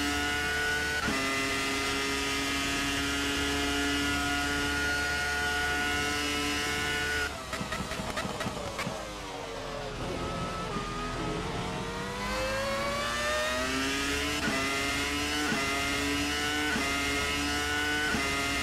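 Simulated 2000 V10 Formula 1 car at Hockenheim in Assetto Corsa, a loud screaming high-revving engine holding steady, dipping through a rapid run of gear shifts and braking, then climbing again under acceleration, with no talk.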